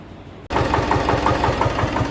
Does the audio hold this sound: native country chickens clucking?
no